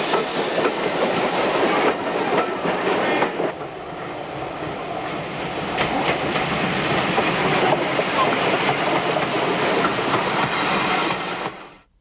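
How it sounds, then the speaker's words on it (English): A vintage steam railway train rolls into a platform with a steady, broad roar and hiss, loud and close for most of the stretch, with sharp shifts in texture before fading out abruptly. "now the 10:45 departure actually is coming in the platform"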